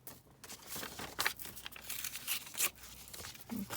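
Paper torn by hand while making envelopes, a few short, dry ripping bursts with soft crinkling between them, close and quiet, with no talking.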